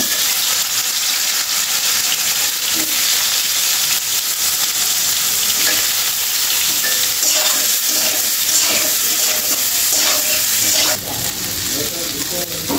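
Potatoes sizzling loudly in hot oil in a pan for a vegetarian taro curry, a steady, dense frying hiss heard close up for the whole stretch with no break.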